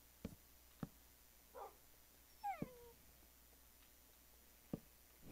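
Wolves in a video game give short whimpers and yips, a few sparse faint cries and a whining, falling whine spaced across quiet background.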